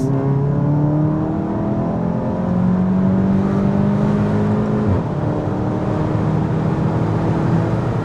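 A tuned VW Golf Mk7 GTI at Stage 2 accelerates, its engine note a steady droning hum with rising harmonics, heard from inside the cabin with no talk.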